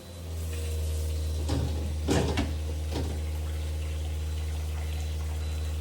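Warm water pours into a pot of pork belly soup in short gushing splashes, heard against a steady low hum.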